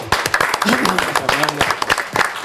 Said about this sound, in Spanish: Aplausos. Sí, aplausos.